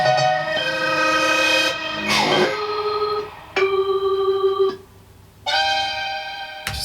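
Song section where an organ-like rising tone is layered with a piano-like fluttering figure, sustained bright chords cutting off and returning in blocks, loud and close with no talking.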